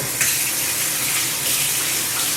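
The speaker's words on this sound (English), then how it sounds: "So I'm going to wash my hands" Tap water gushes steadily into a kitchen sink as hands are washed before cooking seafood pasta, a loud, close and continuous splashing stream.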